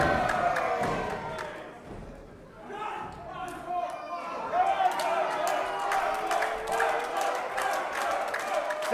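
Wrestling crowd in Harlow cheering and chanting through a title match, with thuds from the ring and a commentator talking over the loud, rising crowd noise.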